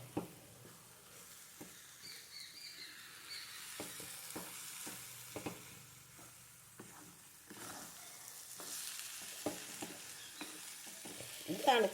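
Roasted semolina being stirred in a pan while making upma, with a quiet, steady scraping and light sizzling marked by irregular soft taps of the spoon on the pan. No one speaks.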